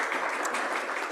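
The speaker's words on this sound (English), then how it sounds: "please give Richard a round of applause" Rotary meeting audience in Melbourne applauding, a dense, steady patter of many hands clapping together for a short burst, moderately distant and uniform, with no voices over it.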